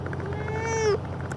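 A single cat meows once, near and fairly clear: a drawn-out rising-falling call of about a second over a steady low background hum.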